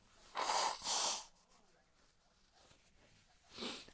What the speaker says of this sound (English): You're going to hear me blow my nose.